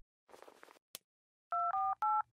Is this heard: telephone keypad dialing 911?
yes